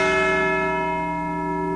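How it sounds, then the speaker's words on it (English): A bronze bell cast at the McShane Bell Foundry in Baltimore rings with a single sustained, ringing tone that decays slowly, its stacked overtones clear and loud with no voices over it. "his bells are alive and well"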